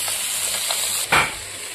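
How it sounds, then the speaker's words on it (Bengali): Vegetables sizzle steadily in a pan with spices, a continuous frying hiss joined by a brief louder scrape of stirring near the end, close and alone. "এই যে সবজিটাতে মশলা দিয়ে দিয়েছি, এবং ভালো করে কষিয়ে নেব"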